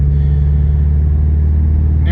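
A Subaru bought at auction on a test drive, its engine giving a steady low drone with a smooth, even hum under way and no clear shift in pitch over a couple of seconds.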